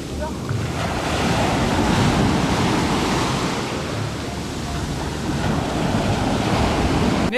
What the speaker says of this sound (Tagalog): Negative nga ang dagat dahil maalon at malalim agad.